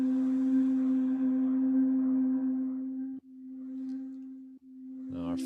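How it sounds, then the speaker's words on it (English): A smooth, steady sine wave synth tone plays from a sampler instrument, one sustained pure pitch held alone, briefly interrupted twice by tiny gaps and followed by a short burst at the end. "I think I like the sine wave a little smooth for this."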